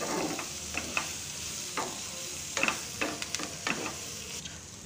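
Cabbage fry stirred in a pan makes a soft, steady sizzle, with repeated scraping strokes of a spoon against the pan.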